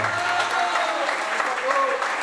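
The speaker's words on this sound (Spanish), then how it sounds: "un fuerte aplauso" Audience applause at a club recital in a social club, a short steady burst of clapping from a small crowd, fairly loud and close, with some voices faintly under it.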